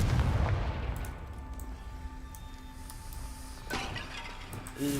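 A Confringo spell explosion in the Hogwarts Legacy video game opens with a low booming burst that fades into a ringing hum, followed by softer pops and a later sharp crackle near the end.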